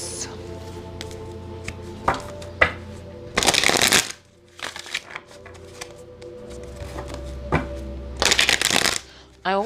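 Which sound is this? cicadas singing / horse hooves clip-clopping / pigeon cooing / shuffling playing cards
shuffling playing cards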